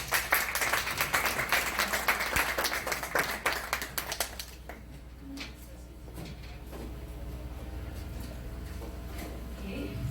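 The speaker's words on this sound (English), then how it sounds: "On va les voir applaudir s'il vous plaît." An audience at a gathering on women's rights in Haiti claps: dense, lively applause for about four seconds that then tapers into sparse claps and quiet room noise.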